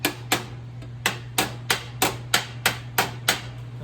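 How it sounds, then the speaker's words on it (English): A hammer's edge taps sheet metal worked over a dimple die, about a dozen sharp, evenly spaced metallic strikes, close and distinct against a steady low hum. "the edge of the hammer, not the face, as I work around the edge of the dimple die underneath"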